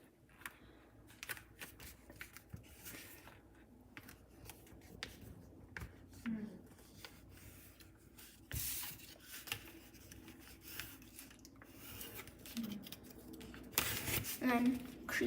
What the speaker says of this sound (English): crease it down with your ruler nicely so it stays